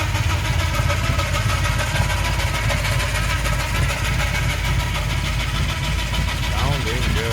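A 1955 Chevrolet 210 wagon street rod idles nearby with a steady, continuous rumble and a slight uneven lope that holds for the whole stretch without revving.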